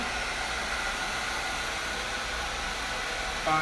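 A hair dryer blows a steady, loud whoosh of air without a diffuser over curly hair in a salon, continuous and unbroken for the whole stretch.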